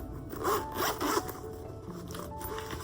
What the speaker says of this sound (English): let me zip this